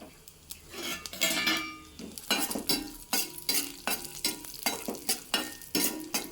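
Oil crackles and sizzles steadily in a pan with mustard seeds, cumin, urad dal and cashews while a spoon scrapes and stirs, with sharp pops and clinks recurring throughout.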